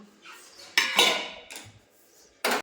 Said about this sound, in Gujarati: 5-7 મિનિટમાં ફટાફટનું વાસણ ઉટકી નાખું